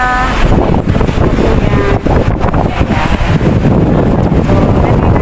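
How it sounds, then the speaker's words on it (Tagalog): Wind buffets a microphone outdoors in front of the IFC Mall, a loud, steady, low rumbling roar with a person talking underneath. "Mahangin guys."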